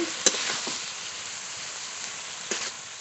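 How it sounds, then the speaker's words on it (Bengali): Spice paste fries in a thin layer of oil for a chicken curry, making a quiet, even sizzle with a couple of brief clinks and scrapes. "মশলা খুব ভালো করে কষিয়ে নিয়েছি"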